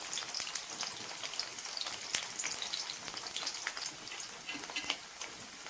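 Potatoes frying for aloo bhujia in a home kitchen, a dense, steady crackling sizzle with scattered sharp pops, close and continuous, with no talking.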